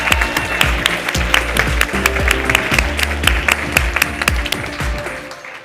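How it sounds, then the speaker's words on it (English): A crowd at a community leadership awards ceremony applauds, with a dense patter of clapping over a steady tonal backing that fades toward the end. "give them a round of applause"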